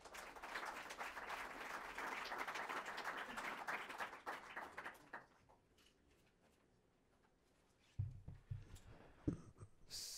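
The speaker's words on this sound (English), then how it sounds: "Please give a round of applause for Ed Maybach." Audience applause for a speaker at a journalists' energy and environment event, dense steady clapping for about five seconds that fades out, followed by quiet room noise and a few scattered thumps and shuffles.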